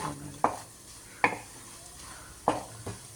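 Hot oil hisses softly in a pan as spices are tempered, while a spoon clanks against it three times, at uneven intervals.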